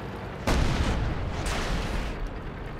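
Shells slam into a KV-5 heavy tank in World of Tanks, two sharp heavy booms about a second apart, each trailing a loud rumbling roar that stays loud to the end.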